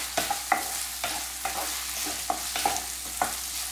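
Rice stirred and sautéed in ghee for restaurant-style cumin (jeera) rice, a soft continuous sizzle broken by repeated scraping strokes of a spoon against the pan, close and fairly quiet with no talking.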